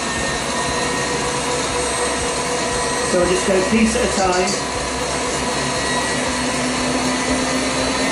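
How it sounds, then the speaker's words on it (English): Stand mixer whipping Italian meringue buttercream as softened unsalted butter is added, a steady loud motor whir with brief rattling bursts midway, under a person speaking. "Mixer on."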